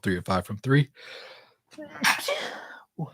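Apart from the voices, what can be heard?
sneeze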